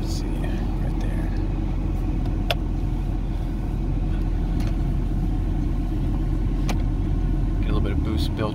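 A 2016 Ford F350 engine runs in drive, a loud steady rumble with boost building, a few sharp clicks and metallic taps over it, and no clear voices.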